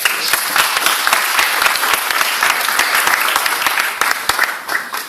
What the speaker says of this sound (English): So I think we all deserve a round of applause for that.